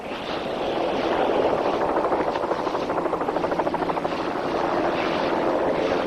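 A helicopter flies overhead with a loud, steady rotor thump and engine roar, chopping rhythmically as it passes close by, no voices.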